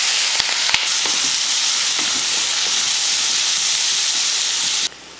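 Chopped onions with garlic and curry leaves sautéing in hot oil for a home-style Tamil dinner dish, giving a steady, dense sizzle and hiss throughout, with a couple of brief clicks near the start before it cuts off near the end.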